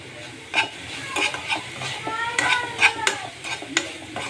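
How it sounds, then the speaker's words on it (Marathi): A spoon stirs puran sweet filling with cardamom powder in a pot, giving scattered scraping knocks and soft scrapes at an uneven pace, close and moderately loud, with a faint sizzle underneath and no talking. "आता आपण ह्याच्यामध्ये वेलची पूट टाकून घेणार आहोत आणि हे व्यवस्थित ढवळून घ्यायचं"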